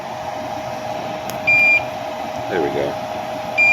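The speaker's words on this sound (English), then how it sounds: "So it's just 1 beep every second at 5 parts per million" A Toptes CT-580 carbon monoxide detector sounds its low-level alarm at 5 ppm, giving short, high, clean electronic beeps roughly once per second over a steady background hum, with a person speaking briefly.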